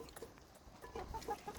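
Hens cluck softly on an organic egg chicken farm. A few quiet, short clucks come at an irregular pace over low barn noise, with no talking during the sounds.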